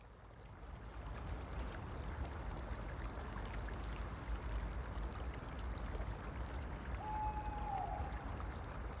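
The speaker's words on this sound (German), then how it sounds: "aus dem Wald hört man nur noch die Eulen, das Zirpen der Grillen und das Rauschen vom Bach." Evening forest at dusk with crickets chirping in a steady, rapid pulse, under a constant soft rush of a brook; a faint bird call surfaces briefly near the end.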